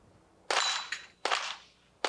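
Sharp gunshots crack out at a sportsman's team challenge pistol shooting event, precision stage, three loud reports spaced roughly 0.7 seconds apart, each with a short ringing decay.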